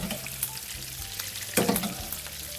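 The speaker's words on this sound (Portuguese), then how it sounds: "Vou dando um banhozinho dele aqui com a manteiga" A chicken fillet sizzles steadily in a pan while being spooned with thyme-infused butter, crackling and spitting close up with small bursts as the butter is poured over.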